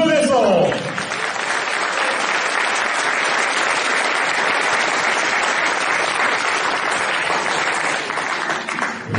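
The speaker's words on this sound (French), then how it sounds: "Merci d'applaudir comme il se doit, Emmanuel Lemaison." Sustained audience applause greets a player introduced at a men's Pro A table tennis match between Jura Morez TT and Pontoise-Cergy, a dense, steady wash of clapping from a large crowd lasting throughout.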